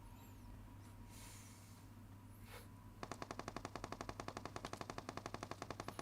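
Rapid machine gun fire in the mobile battle royale game PUBG Mobile: after a few seconds of ambient game noise, a steady, fast burst of evenly spaced shots rattles out, loud and close.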